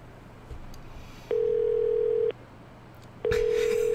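A green public payphone in the Yakuza 0 video game gives two steady electronic tones, each lasting about a second with a short gap between them, clear and fairly loud over faint background hum.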